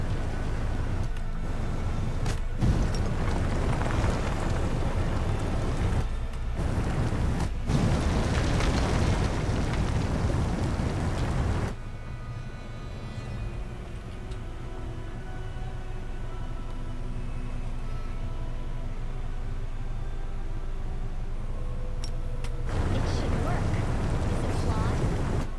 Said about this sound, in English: Magma eruption.